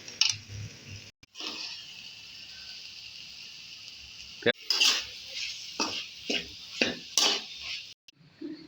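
Chopped paneer tumbles into a pan of gravy, then a spoon scrapes and clinks against the metal in uneven strokes over a soft sizzle.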